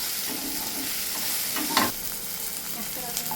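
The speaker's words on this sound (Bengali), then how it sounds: "হালকা করে এটা পুরো ব্যাপারটাকে একটু ফ্রাই করে নেবেন।" Tomatoes fry in a pan as they are stirred, a soft steady sizzle broken by a few scraping stirs, close and fairly quiet with no talking.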